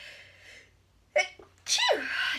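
A single sharp sneeze, close and loud, preceded by a quick intake of breath.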